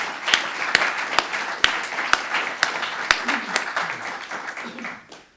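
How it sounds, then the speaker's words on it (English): An awards-ceremony audience claps in sustained applause, dense and steady with sharp individual claps standing out, fading toward the end. "let's honor them with applause"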